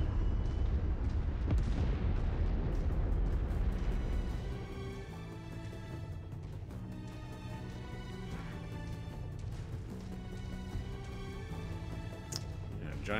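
Heavy booming cannon blasts and explosive rumbles from MechWarrior 5: Mercenaries, dense at first, then settling into a steady mechanical drone with occasional bursts.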